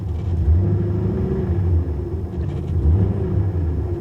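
A 1987 Chevy Monte Carlo SS engine runs steadily at idle, a low, close rumble that swells slightly at moments, with no voices over it.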